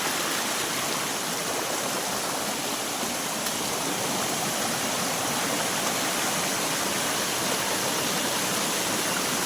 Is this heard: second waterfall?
yes